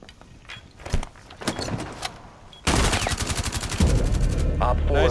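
Rainbow Six Siege gunfire breaks out as loud, rapid automatic bursts that ring on continuously in close range, after a few scattered sharp bangs and brief voices earlier.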